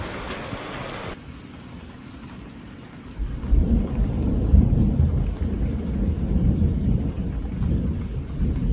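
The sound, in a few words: rain with thunder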